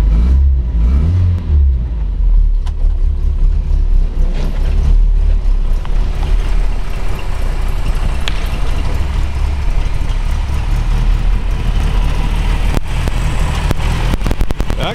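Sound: Austin four-cylinder car engine starting

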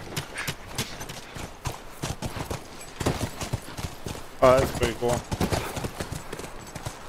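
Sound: horse hooves clip-clopping, from a video game

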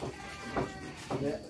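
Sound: goats bleating

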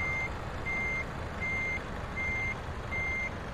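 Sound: truck reversing with beeps in video game Euro Truck Simulator 2

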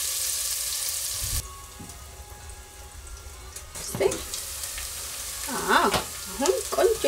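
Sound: carrots and potatoes frying in a pan

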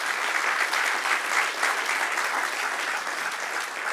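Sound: congregation applause in church

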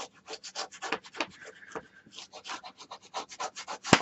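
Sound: burnishing score tape on a paper mini album

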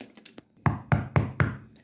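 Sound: knock at the door

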